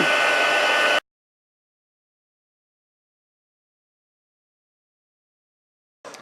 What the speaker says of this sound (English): Now with this glitter, I'm going to heat it up from the bottom.